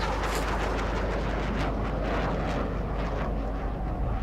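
Airplane passing overhead in the video game Dying Light, a loud broad rumbling roar that swells and holds steady over a few seconds with no talking.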